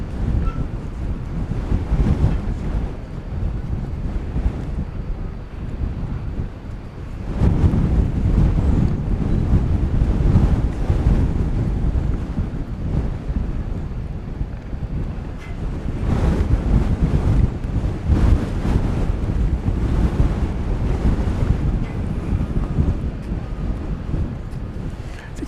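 Strong wind buffets the microphone outdoors at DFW airport, a continuous loud roar that surges and eases in gusts over the full stretch.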